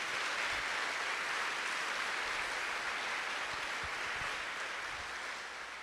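Church congregation applauding, a dense, even hiss of clapping that sounds distant and fairly quiet, holding steady throughout and fading slightly toward the end, with no talk.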